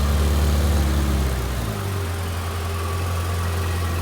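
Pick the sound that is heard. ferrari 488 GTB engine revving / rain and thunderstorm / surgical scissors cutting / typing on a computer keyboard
ferrari 488 GTB engine revving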